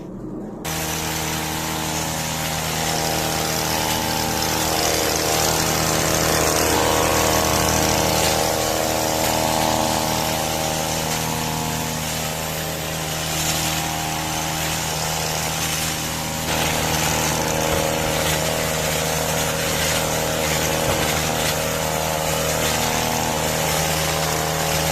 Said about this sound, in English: This could do with a little bit of a trim, this bush in the back.